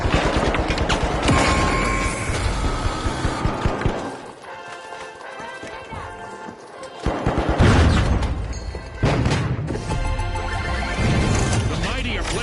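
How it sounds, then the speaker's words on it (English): In the shooter game The Finals, a frag grenade blast and crashing impacts mix with rapid bursts of gunfire. Voices talk over the chaotic action, which drops briefly before the firing surges loudly again. "Send it to frag! Frag grenade out!"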